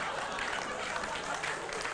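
A comedy club audience claps in a steady, dense burst of applause, moderately loud and close, with no voice over it.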